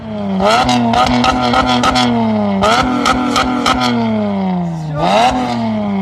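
A Toyota Camry 2.5 engine with a modified exhaust revs hard in three separate bursts, climbing and dropping back each time. It is close, loud and raspy, with a rattling clatter and no talk.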